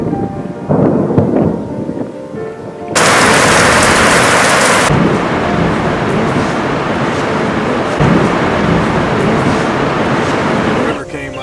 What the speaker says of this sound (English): Big rain.